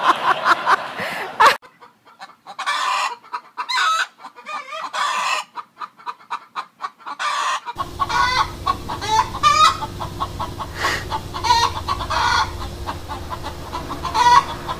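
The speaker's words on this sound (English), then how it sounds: "the hens would cackle" Hens cackle and cluck repeatedly in a busy, overlapping chorus, with a rooster crowing now and then against outdoor background noise.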